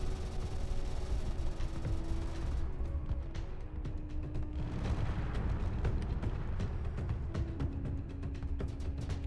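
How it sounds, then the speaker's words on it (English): A hydrogen tank explosion in the Space Engineers video game produces a dense, continuous roar of rumbling blasts and crackling impacts, heavy and sustained throughout. "hydrogen tank explosion"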